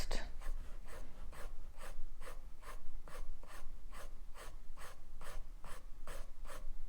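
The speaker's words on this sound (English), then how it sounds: "really enjoying the process of depositing the graphite onto the paper" Graphite pencil on paper makes quick, regular scratchy strokes, about two per second, close and soft with a rhythmic back-and-forth rasp throughout.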